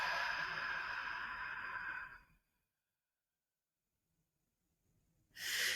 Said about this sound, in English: we can breathe in through the nostrils and then out through the mouth